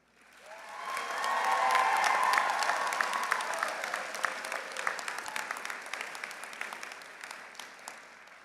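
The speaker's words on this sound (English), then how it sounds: "Graduates, please take a few moments to thank those closest to you with your applause." Crowd of graduates and guests at a college commencement breaking into applause that swells within a second into a sustained roar of many hands with faint cheers, then gradually thins into scattered claps.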